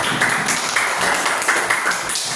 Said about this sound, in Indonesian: tepuk tangan untuk kelompok Injil